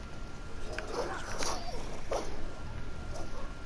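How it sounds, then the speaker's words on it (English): Dog in the video game Ghost of Tsushima gives a few short whimpers and yips at moderate distance over faint game ambience, with no one speaking. "It was a dog."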